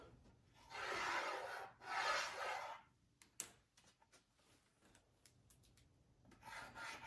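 Belt sander grinding a curve into a chunk of oak, two loud rasping passes of abrasive on wood, then scattered knocks and clicks before a softer rasp resumes at the end.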